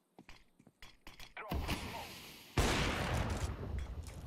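Counter-Strike gunfire: a few sharp, scattered shots and footsteps give way to heavy, close bursts of rapid fire, which swell into a loud, sustained volley.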